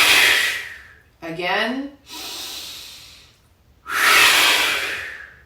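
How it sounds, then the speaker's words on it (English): Breathy exhales pushed out through the mouth during a Kundalini yoga breathing exercise, two long forceful rushes of air framing a short spoken cue in the middle. "Inhale, suspend the breath. Exhale out the mouth."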